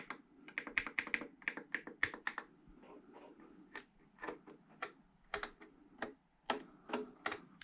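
Crisp clicking of buttons on a Korg synthesizer, a rapid run of close, light taps followed by slower, spaced single clicks.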